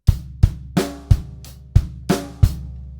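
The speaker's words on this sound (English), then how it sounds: "all you've got is an extra bass drum on the and of 1" A drum kit groove played at Grade 4 rock level with an added bass drum on the and of 1: a steady bar of close, punchy kick, snare and cymbal hits with no talking.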